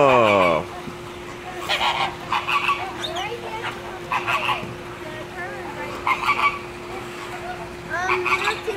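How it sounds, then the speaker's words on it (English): An Egyptian goose at a zoo gives several bursts of harsh honking calls spread through the clip, fairly close and loud. A steady tone and other background noise run underneath. "That is an Egyptian goose"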